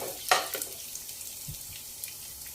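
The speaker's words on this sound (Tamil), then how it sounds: "முந்திரியும் திராட்சையும் சேர்த்து நல்லா வந்து வறுத்துக்கோங்க" Cashews and raisins fry in a kadai, giving a quiet, steady sizzle with a sharp utensil clink early on and a few soft scrapes after it.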